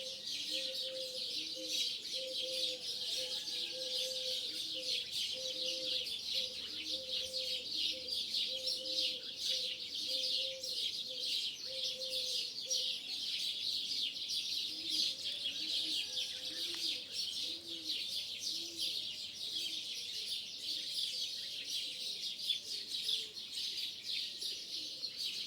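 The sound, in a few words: roosters, turtle dove and small birds calling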